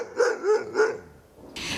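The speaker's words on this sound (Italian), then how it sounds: "i 2 cani che abbaiano" Two dogs barking in a garden, a short run of three loud, close barks followed by a brief pause and a burst of rustling noise.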